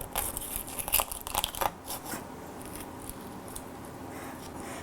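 A knife cracking and cutting through the brittle shell of a salted egg, with a cluster of sharp crunching taps and scrapes early on, then softer, quieter scraping, heard close and without talk.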